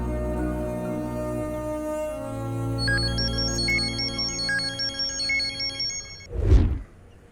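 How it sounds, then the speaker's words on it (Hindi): A phone ringtone plays a bright, repeating electronic melody over a low background hum in a movie scene. A sudden heavy thump lands near the end, and no one speaks. "ए, कौन कॉल कर रहा है?"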